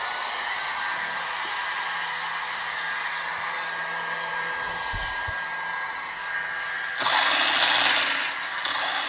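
An Arrma Gorgon 1/10 RC car's electric motor spins up with a whirring, gear-driven whine under a continuous background hiss, swelling louder near the end with no voices present.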